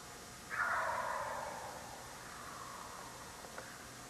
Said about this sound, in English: Multiple gobbles, but still no bird on camera.